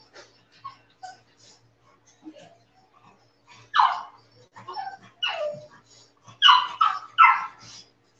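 Newborn toy poodle puppies whimper and let out thin, high yelps and squeaky barks, faint at first and growing louder in a cluster of close cries toward the end.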